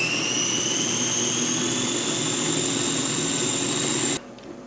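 A Ninja Combi multicooker blends a creamy meatball stroganoff sauce with milk under a closed lid, giving a loud, steady, high whirring drone for about four seconds before it cuts off abruptly.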